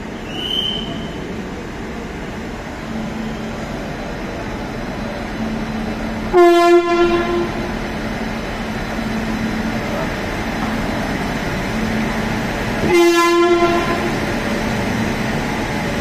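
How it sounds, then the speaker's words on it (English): An Amrit Bharat express train, hauled by a WAP-5 locomotive, rumbles steadily past as its horn blares twice, several seconds apart, loud and close. "Here comes Amrit Bharat train, VAP 5."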